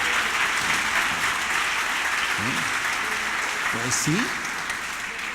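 A church congregation gives a thin, lukewarm round of applause, a steady soft patter of clapping that tapers slightly toward the end while a voice speaks briefly over it.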